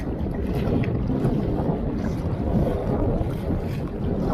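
Strong sea waves churn around a small island boat, a dense continuous roar of water and wind buffeting close by with no clear breaks.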